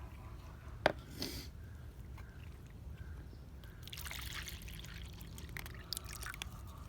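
Water is poured into a bowl for outdoor feral cats in short trickling bursts with splashes, fairly close amid quiet background clatter.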